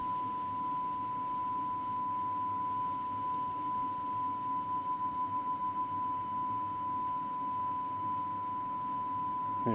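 Steady single test tone from a cassette deck during tape speed adjustment, a pure sustained pitch whose loudness slowly wavers in a gentle beat that settles toward steady, alone without talk.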